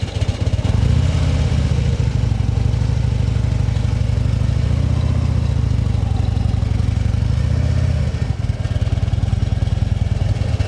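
A motorcycle engine holds a close, steady, throaty idle-level rumble during a slow, sharp U-turn, with the throttle easing gently up and down throughout.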